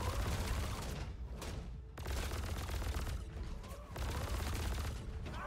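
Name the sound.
gunfire from a ship's guns in a video game (Star Citizen PTU)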